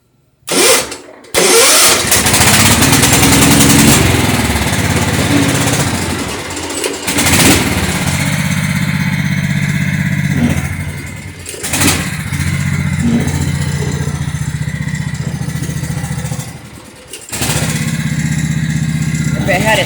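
Craftsman lawn tractor engine cranking and catching, then running rough and loud with uneven revving and brief dips, while someone talks over it.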